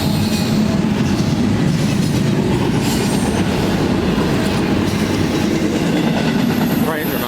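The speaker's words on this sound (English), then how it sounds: "Trains are not that fucking long." A train rolls past on the rails with a loud, steady rumble and a rhythmic clickety-clack of wheels that lasts the whole stretch, close by and unbroken.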